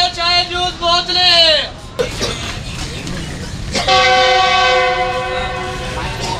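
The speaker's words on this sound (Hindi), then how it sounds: "G20 का बहुत ही ज़बरदस्त हॉर्न आपने सुना है और सेकंड हॉर्न था" Loud, close train horn blasts at Rahim Yar Khan railway station, Pakistan, a long wavering blare, then a pause with rumble, then another sustained horn blast as the train departs.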